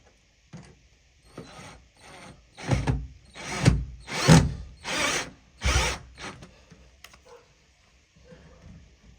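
A screw being driven into a cupboard door hinge, heard as a series of roughly six rhythmic ratcheting, whirring bursts, close and fairly loud, with quiet pauses on either side.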